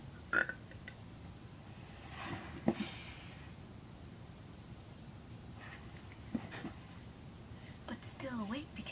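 A half-asleep girl burps a few times at bedtime, with short throaty bursts around the start, middle and end of the stretch, close up and fairly quiet, along with faint breathy sounds and low background noise.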